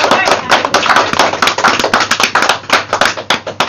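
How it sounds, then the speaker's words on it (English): A church congregation claps together for Jesus, a close, loud run of sharp hand claps that becomes rhythmic and roughly in unison, with some voices underneath. "Let us give a gift clap to Jesus."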